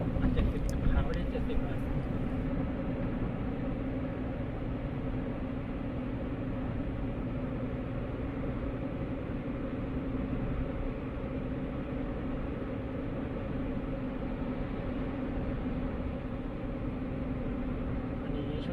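A steady, broadband roar of Goodyear Eagle F1 Sport tyres on road fills the car cabin at a constant level, with a brief rattle at the start and no voices.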